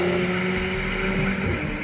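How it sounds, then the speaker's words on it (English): A McLaren 765LT's quad exhaust sings out a steady, sustained engine note on a race track, loud and close with a smooth even tone and no voices. "that quad exhaust is just singing"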